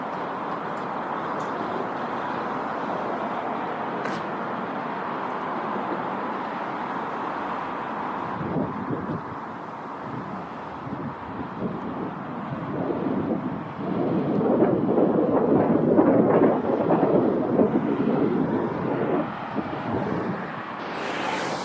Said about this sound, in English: This busy motorway leads to Heathrow. That's why it's so noisy and busy.